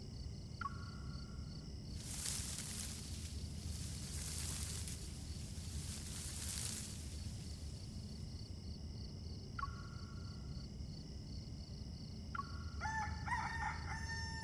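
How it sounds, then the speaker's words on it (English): A rooster crows in an in-game morning scene, its calls coming in short repeated bursts over a steady rural ambience, with several crows spread across the clip and a busier cluster near the end. "The rooster already crowed."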